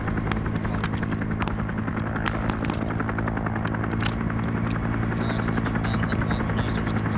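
A helicopter in a Vietnam-era military video game thunders steadily and close, its rotor buzz and engine drone continuous and loud throughout, with faint clicks on top.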